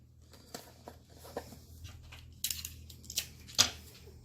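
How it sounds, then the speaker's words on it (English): Tape tearing off a roll while a gift is wrapped, a handful of short crisp rips and crackles growing louder toward the end, close and otherwise quiet. "And a little bit of tape on the other side to hold it."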